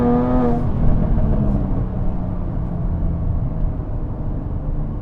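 A 2017 Jaguar F-Type S with an 8-speed ZF gearbox launches hard, the engine note climbing sharply through revs, then settling into a loud, sustained growl under full acceleration, close and dominant.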